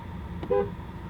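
A short, single toot from the horn of a 2016 Volkswagen Golf GTI, a brief honk heard close up inside the car over a low background hum.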